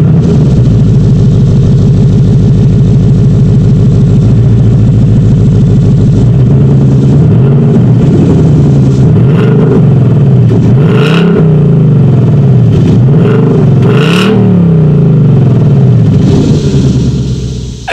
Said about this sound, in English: here is that exhaust clip for the 2019 Ford Mustang GT.